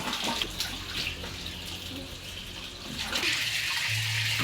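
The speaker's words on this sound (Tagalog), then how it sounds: "Open the water." Water running from a tap into a shower or bath at home, a steady hiss and gush of fairly close flow that swells louder toward the end.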